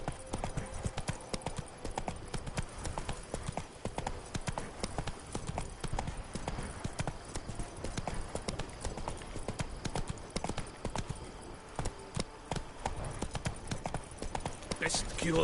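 Roach the horse gallops in The Witcher 3, a fast, steady clip-clop of hooves that runs continuously and close by.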